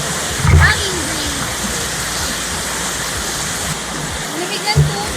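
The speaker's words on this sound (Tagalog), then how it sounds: "dito nga po sa falls na ito, sobrang lamig ng tubig at sarap maligo" A waterfall at a dam in Dasol, Pangasinan, gives a loud, steady rushing roar close by, with a couple of low thumps standing out briefly above the constant wash of falling water.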